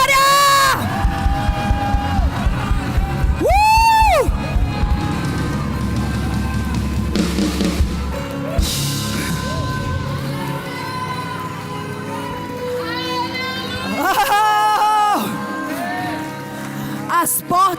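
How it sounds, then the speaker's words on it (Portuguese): A church congregation shouts a loud, sustained victory cry, roaring and cheering continuously with surging peaks, close and dense throughout. "Dê o seu brado de vitória."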